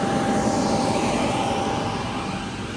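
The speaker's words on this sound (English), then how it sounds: "There's a 950 watt blower," A 950 watt blower running for an inflatable paint booth, giving a constant loud whooshing roar that holds steady and eases slightly toward the end.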